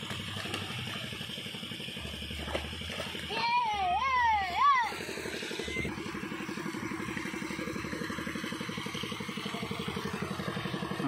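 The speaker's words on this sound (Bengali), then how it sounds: "মোটর চলছে, জল বেরোচ্ছে" A motor pump runs steadily beside a fish pond during katla hook fishing, a constant mechanical hum under the whole scene, with a child and other people talking and a brief whining cry partway through.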